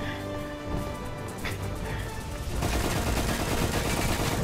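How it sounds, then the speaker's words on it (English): Loud, rapid pistol gunfire in the Roblox game Darkdiver cracks out continuously, growing denser and harsher toward the end, with players' voices faintly mixed in. "The pistol's so loud."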